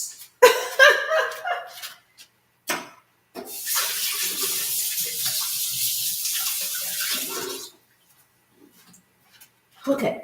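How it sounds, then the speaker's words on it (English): Tap water runs steadily for about four seconds as hands are washed at a kitchen sink, a broad continuous hiss rising after brief speech and ending before voices return. "Okay, so I had to wash my hands."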